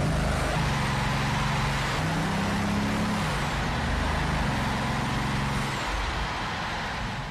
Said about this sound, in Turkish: Motoru ilk kez burada çalıştırıyorlar.